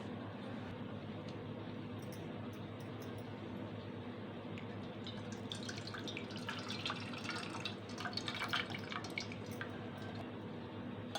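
Water poured and squished through soaked tamarind in a bowl to draw out its juice, a steady wet trickle and dripping with soft squelches that grow busier toward the end, close by with no talking.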